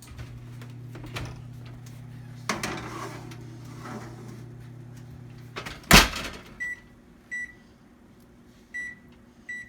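An oven hums steadily as a chocolate cake pan goes in, followed by a loud door slam, several lighter knocks and a series of short electronic beeps, close by with no talk.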